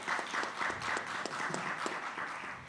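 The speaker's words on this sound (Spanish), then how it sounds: "Un aplauso para Jorge." An audience at a Latin American film and impact forum applauds for a guest, a steady wash of many hands clapping at moderate distance with no talking over it.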